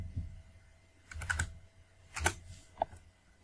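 A few short bursts of keystrokes on a computer keyboard as a password is entered, quiet clicks in small clusters with pauses between them.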